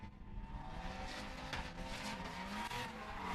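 An SR-engined drift car at a state drift series round revs hard while sliding sideways. Rasping engine notes rise and fall over continuous tire noise, heard from some distance.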